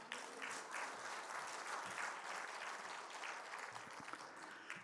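A church congregation at a fasting prayer house claps together in a steady, fairly distant wash of applause that holds for several seconds before tapering off.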